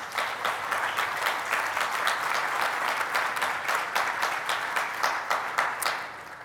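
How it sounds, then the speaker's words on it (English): Audience applause at the closing session of the RTCA 2017 symposium: dense, sustained clapping from a large crowd, steady and loud for the full stretch. "So I'd like one more round of applause for our sponsors."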